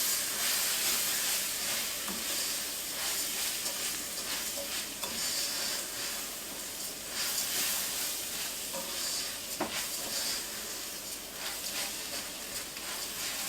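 Spanish rice with garlic and onion powder fries in a pan with a continuous close sizzle and hiss, broken by occasional stirring scrapes and clinks.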